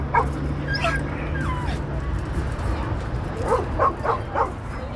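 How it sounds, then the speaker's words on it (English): An old herding dog, a triple national champion of about 15 or 16 years, gives faint yips and whimpers amid steady background noise and low voices. "There's a triple national champion herding dog."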